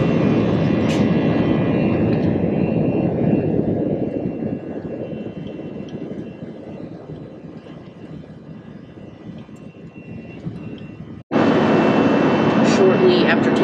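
Delta Airbus A321 jet engines roar steadily during takeoff as heard from the cabin, a broad loud drone that eases slightly before an abrupt cut to a brighter cabin sound.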